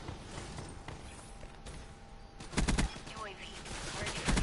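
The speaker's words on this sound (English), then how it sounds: "Now he's shooting at the wall." Gunfire in Black Ops 3 as a player shoots at a wall: a burst of sharp shots arrives partway through over a steady game background, followed by scattered further shots.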